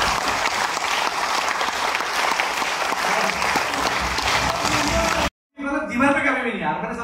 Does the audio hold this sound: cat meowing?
no